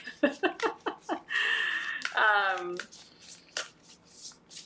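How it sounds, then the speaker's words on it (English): A deck of reading cards is shuffled by hand, a run of quick riffling snaps followed by a longer continuous riffle and a final few taps, close and clear, with a voice heard talking between them. "I get a good shuffling of that deck"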